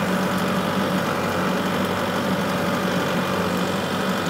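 A tractor engine drones steadily at high revs, a dense continuous mechanical roar with a Lane Shark Hammerhead mower blade whirring underneath while cutting trail, loud and close.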